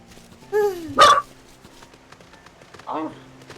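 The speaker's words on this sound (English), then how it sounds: "My dog is gonna bark at my door now." A dog barks at a door indoors, giving one sharp close bark, a louder yelp right after it, and a softer bark a couple of seconds later, with quiet room noise between them.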